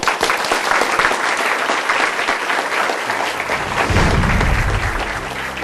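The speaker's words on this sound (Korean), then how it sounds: "큰 박수로 맞아주십시오." A university lecture audience applauds as a Hanwha Chemical vice chairman is welcomed to the stage, loud sustained clapping from a large crowd that swells then begins to fade toward the end.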